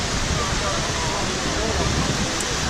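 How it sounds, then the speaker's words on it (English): The Pearl Shore waterfall at Jiuzhaigou pours with strong flow, producing a dense, continuous roar of rushing water that fills the whole stretch without a break. "walked down from the Pearl Shore and it led to this Pearl Shore waterfall."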